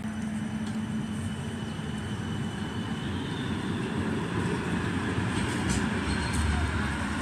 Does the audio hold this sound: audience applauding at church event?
no